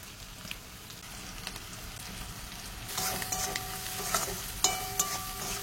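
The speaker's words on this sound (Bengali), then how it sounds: "এই যে পেঁয়াজ কুচি আর কাঁচা পাকা লঙ্কা একসাথে দিয়ে এটাকে ভালো করে" Chopped onion and green chillies frying in oil with spices for an okra chorchori, a steady soft sizzle that grows louder partway through, with a few scraping stirs and light clinks.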